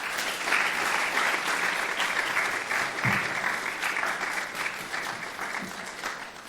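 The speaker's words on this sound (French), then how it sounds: "Je pense qu'on peut les applaudir" Steady applause fills the hall for the speakers at a genocide-memory conference, an even wash of many hands clapping at moderate distance with no voices over it.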